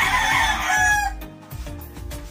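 A sick rooster with limber neck lets out a loud, close crow that breaks off after about a second into low, uneven clucking sounds.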